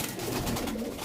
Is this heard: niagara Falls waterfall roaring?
no